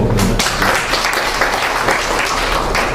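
A seminar audience claps steadily, a dense, even round of applause that holds at full strength throughout.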